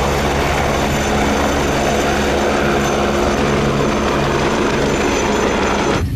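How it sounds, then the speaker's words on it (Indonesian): A blue and white air force helicopter lifts off in a video game, its engine and rotor making a loud, steady, dense roar that runs unbroken and cuts off abruptly at the end. "yang ini helikopter angkatan udara dengan warna biru dan putih"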